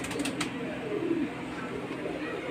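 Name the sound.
pigeons cooing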